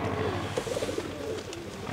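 A young racing pigeon coos close by in soft, low, rolling notes over a faint background hum, with a short cooing phrase in the middle.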